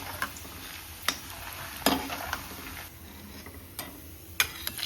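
Edible gum (gond) frying in hot ghee, a steady low sizzle with scattered sharp crackles and clicks as the pieces puff, the faint clink of a stirring spoon mixed in, close and fairly quiet with no talking.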